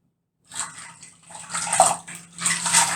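Soapy hands are rinsed under running water, washing off lather; a close, splashy stream in uneven bursts as the hands move through the flow after a brief silence.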